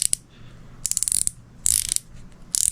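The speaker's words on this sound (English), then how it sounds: "so when we take this handle off and we slowly unscrew this" Ratcheting clicks from a baitcaster fishing reel as its handle is unscrewed, rapid close bursts of metallic clicking repeated in short spells with quiet gaps between.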